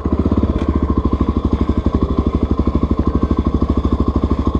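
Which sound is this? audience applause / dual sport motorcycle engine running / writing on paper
dual sport motorcycle engine running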